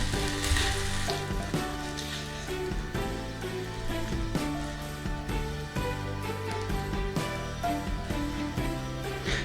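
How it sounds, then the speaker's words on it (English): Onions and vegan bacon browning in an oil-filled pan give off a steady, close sizzle throughout, mixed with background music with a regular beat. "just give it a minute or 2 just to brown your onions and your bacon off"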